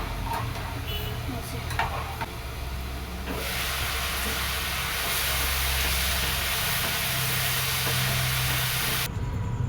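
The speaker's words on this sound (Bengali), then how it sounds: "আর এদিকে আলু ভাজা হচ্ছে" Potatoes frying in oil in a pan on a home kitchen gas stove, a steady broadband sizzle and hiss that swells louder midway and holds, with faint clatter at the start.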